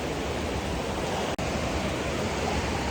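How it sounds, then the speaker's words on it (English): Steady, loud roar of a waterfall along the Eagle Creek hiking trail, a dense unbroken rush of water with one brief dropout near the middle and no talking. "So I'm back to this waterfall area."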